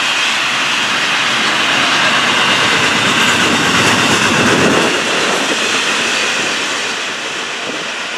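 An FEC 101 freight train rolls past close by, a loud, steady roar of wheels and cars that holds for several seconds before easing slightly near the end.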